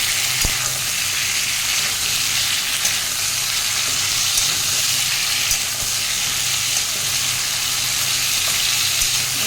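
Onions and potatoes fry in a pan with a steady, loud sizzle and hiss that holds evenly throughout, close up, with no voices over it.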